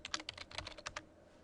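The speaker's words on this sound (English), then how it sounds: "So I'm going to go ahead and type in" Quick typing on a computer keyboard while entering student details into a database, a rapid run of light clicking keystrokes, close and quiet, with no talking.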